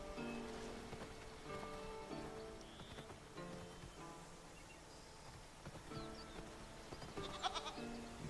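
Goats bleat now and then in the video game Titan Quest 2, over a busy, layered game soundtrack with soft patter and music throughout; the calls are moderate and mixed in rather than alone.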